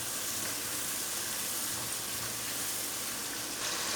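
A steady, loud sizzle as spices mixed in water hit a hot pan, a continuous frying hiss lasting the whole moment with no voices.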